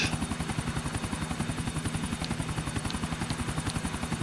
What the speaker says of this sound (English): Let me see if I can park my chopper.